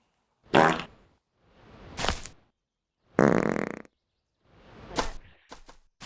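Cartoonish fart sound effects from the video game Animal Company: five loud, separate blasts of varying length, each standing alone with short silent gaps between them.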